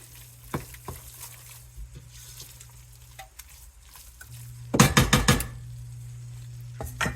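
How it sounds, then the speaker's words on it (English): Cow pea greens stirred in a pot on a stove, with scattered scrapes and a clustered burst of loud utensil clatter against the pot over a faint steady hum, no talk. "I will stir again."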